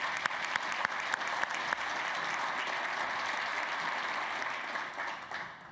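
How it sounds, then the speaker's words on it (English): Luncheon guests at a school event for Dayton Early College Academy break into sustained, close applause with a few sharp individual claps early on, holding steady before fading out near the end. "you can clap on that"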